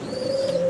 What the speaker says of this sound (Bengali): ব্লুবার কালারের ভিতরে রেন কবুতর